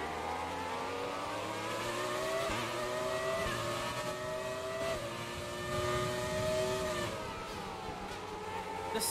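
A Formula 1 race car engine in the F1 2020 video game screams steadily at high revs, its pitch climbing and dropping with gear changes, continuous and alone without talk.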